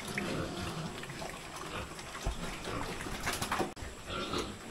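Pig grunts close by, irregular and snuffling, over a noisy background of water and shuffling movement, with no talking.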